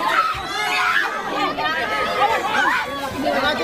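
Residents scream hysterically and cry out amid a crowd during a forced house eviction, with overlapping excited voices and shouts, loud and close throughout.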